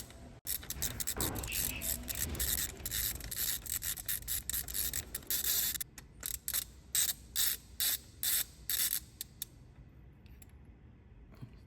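A ratchet wrench on a size 16 extension loosens a spark plug on a VW Golf GTI, with rapid clicking ratchet strokes giving way to separate short bursts of clicks, close up and with no talk.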